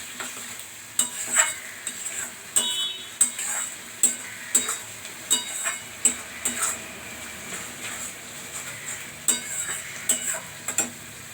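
Chickpea masala stirred with cumin and coriander powder in a pan, a soft sizzle under rhythmic scraping and clinking of a spoon against the pan, repeating roughly every half-second to second, close and without speech.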